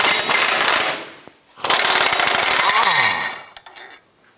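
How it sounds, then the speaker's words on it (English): Impact wrench loosening a subframe bolt on a 2008-2013 Nissan Rogue, two loud, close, rattling hammering bursts separated by a brief pause, ending with metallic clanks. "When we loosen and remove this bolt, this cross bracket here will come off"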